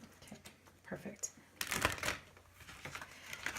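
Quiet, close card shuffling of a Healing with the Angels oracle deck comes in soft riffling bursts and papery slaps, with a louder flurry midway, in an otherwise still room.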